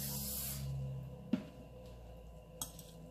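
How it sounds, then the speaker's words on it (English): A short hiss of cooking oil spray into a mold opens the clip, followed by two light clinks of metal in a quiet room. "Now I will spray some oil in the mold and on the dish as well."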